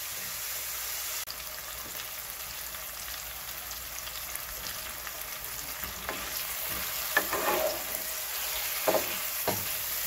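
Corned beef frying in a pan and stirred now and then, a low steady sizzle with occasional scraping spoon strokes growing busier toward the end, close by and without speech.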